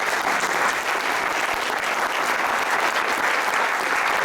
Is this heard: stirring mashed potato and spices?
no